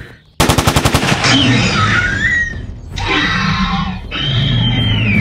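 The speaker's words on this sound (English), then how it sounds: "Opening fire." Rapid machine gun bursts in a toy dinosaur action movie: a sharp, loud rattling volley at the start, then sustained gunfire mixed with shouting-like tones and a roaring creature, loud and close throughout.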